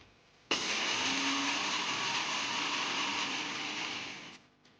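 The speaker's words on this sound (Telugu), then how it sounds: "ఆవాలు, జీలకర్ర, మెంతులు, ధనియాల పొడి, వెల్లుల్లిపాయలు వేసుకొని మిక్సీ పట్టుకున్నాం" A kitchen mixer grinder blending mustard seeds, cumin, fenugreek, coriander powder and garlic, starting with a sudden loud whir that holds steady for about four seconds, then winds down and stops.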